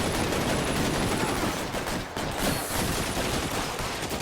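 Dense, sustained bursts of gunfire fill a shootout in the video game L.A. Noire, loud and close, with rapid overlapping shots that continue with only a brief dip.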